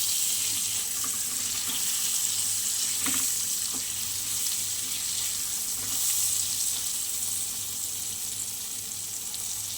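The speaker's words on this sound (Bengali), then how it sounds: "চলো এবার ভেজে নিই সুন্দর করে" Food seasoned with salt and turmeric fries in a pan with a steady, even sizzle and hiss that holds through the whole stretch, with no voices.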